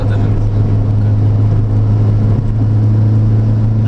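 Steady droning engine of a VW Lupo with a swapped 1.8 turbo engine while driving, a loud constant low hum heard from inside the car with road rumble and no pauses.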